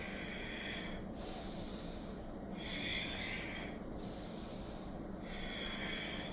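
Slow, steady breathing in and out during a Kundalini yoga class, a soft airy hiss rising and falling in a regular cycle roughly every second or two, quiet and close, with no talking.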